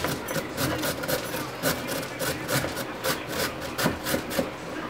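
Carrots being shredded for lumpia, a steady rhythmic rasping scrape repeating in quick strokes, close and fairly loud, with no talking.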